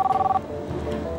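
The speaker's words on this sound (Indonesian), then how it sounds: "Ada telepon." Telephone ringing: a short electronic warble of rapid pulsing tones lasting under half a second, then cut off and replaced by low indoor background noise.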